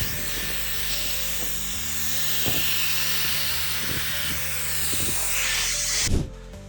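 A 130,000 RPM electric air duster blasts a steady, loud, high-pitched rushing whine while clearing ice and debris off a car windshield, holding constant for about six seconds before cutting off abruptly.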